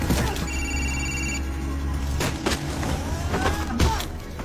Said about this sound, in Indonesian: Telepon di langit-langit berdering lagi.